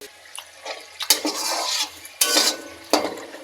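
Singaras are turned in a pan of hot oil with a metal utensil, giving repeated scraping and clinking strokes in uneven bursts over a soft, steady frying sizzle, close up and with no voices.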